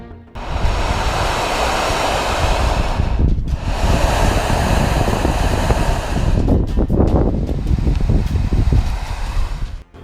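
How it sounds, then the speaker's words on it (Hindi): A loud roaring, rushing noise like crashing ocean surf or a heavy waterfall swells in two long surges with a brief dip between them, harsh and wind-buffeted, with no voices. "सुनने में ये समंदर की लहरों की आवाज लगती है। ऐसा लगता है मानो कोई झरना जोरदार तरीके से आसपास ही गिर रहा हो।"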